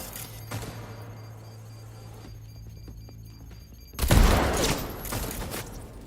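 During an ambush in Cyberpunk 2077, quiet ambient game sound gives way to a sudden loud burst of rapid gunfire that slowly tails off, with a few scattered faint shots before it.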